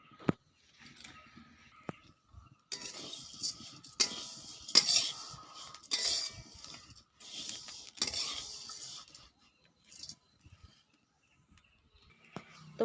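A utensil scrapes and clinks against a pan while semai vermicelli is stirred and fried, in irregular bursts of metallic scraping separated by short quiet gaps, close and fairly soft.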